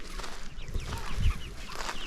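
Chickens in a backyard garden chicken tractor cluck and croak in a busy, overlapping chorus, close and moderately loud with some low thumps underneath.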